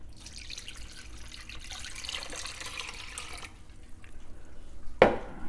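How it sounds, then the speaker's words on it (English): Hot water pours from a cup into a gluten-free bread mix, a soft continuous trickle for several seconds that stops, followed by a brief sharp clink, close and fairly quiet. "And lastly, 1 1/3 cup of hot water."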